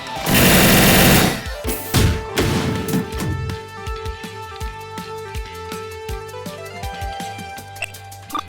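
Artillery mode firing in the video game Last Origin: a loud burst of rapid gunfire, then heavy booms, followed by a string of lighter electronic impacts over game music.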